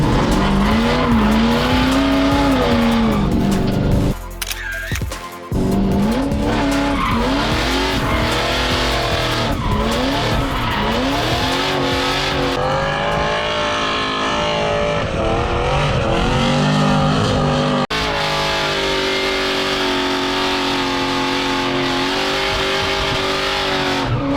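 A Ford Focus RS drifting, its engine roaring loud and close as the tires squeal in long sustained howls, the revs rising and falling through the slide with a brief dip before the screech resumes.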